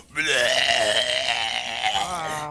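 A human voice imitates a huge, drawn-out belch from a creature in a Dungeons & Dragons session, one loud, sustained, gravelly burp lasting over two seconds.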